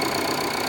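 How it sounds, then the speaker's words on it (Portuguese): A Jeep engine idles smoothly after a repair, giving a brief, steady mechanical hum with no knocking heard. "E agora tá normal, tá o barulho normal do funcionamento do motor"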